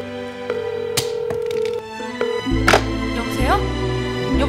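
A telephone dials with a string of short keypad beeps and tones, then rings, loud and close in a Korean TV comedy sketch.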